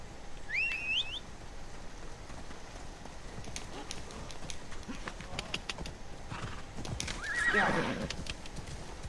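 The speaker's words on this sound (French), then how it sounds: "Cheval." A horse in the video game Assassin's Creed Odyssey gives a sharp whinny near the start, then its hooves clop along a path at a steady pace, with a louder neigh and snort near the end.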